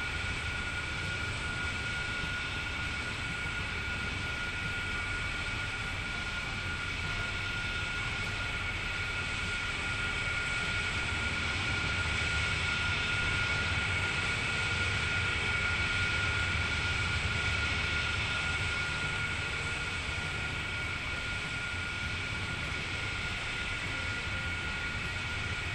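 Aircraft in the video game Transport Fever 2 flying with its landing gear retracted, a steady droning engine hum holding evenly at moderate loudness throughout.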